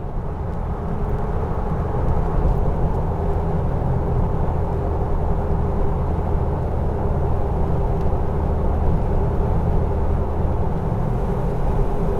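A Jeep TJ running 3.73 gears and 32-inch tires climbs a hill, its engine a continuous low, heavy rumble heard from inside the cab, with no talk over it.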